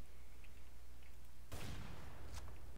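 One sudden gunshot crack in the Minecraft GunColony server video game, cutting sharply through a steady noisy background and then fading, with a fainter second pop shortly after.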